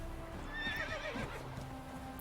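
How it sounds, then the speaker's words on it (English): An angry horse in The Witcher 3 video game gives a shrill whinnying neigh, with hooves clip-clopping and shuffling beneath it, heard alone at moderate distance against quiet game ambience. "The horse is rather angry"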